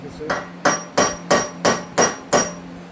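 A hammer strikes a short metal rod six times at a steady rhythm, trying to drive a stuck cartridge case out of an HK firearm chamber. The blows are close, sharp and loud, with no talk over them.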